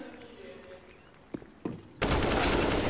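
AK rifle fire in Counter-Strike: a couple of sharp single shots, then a sustained loud burst of automatic fire, with a commentator's voice audible beneath.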